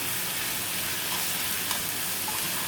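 Bottle gourd peel sabzi cooks in a pan with a steady, close, even sizzle and frying hiss throughout and no voices.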